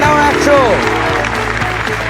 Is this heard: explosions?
no